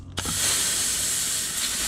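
Compressed air hissing steadily from the tip during a piston test on a 200-4R transmission direct drum, starting with a brief click, then a loud, continuous close-up leak of air.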